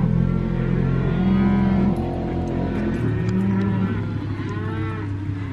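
Cattle mooing, with several long low moos overlapping against a steady rumbling background.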